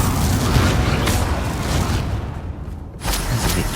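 A Confringo fire spell detonates in the Hogwarts Legacy video game, a dense roaring blast that rumbles on, drops away briefly, then surges again loud and close.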